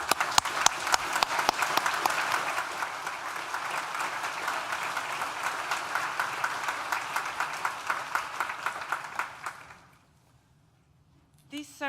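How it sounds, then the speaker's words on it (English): An audience at a university graduation ceremony gives sustained applause, dense and even for about ten seconds before fading quickly to near silence, with a brief voice returning at the end. "So please join me in thanking them with a well-deserved round of applause."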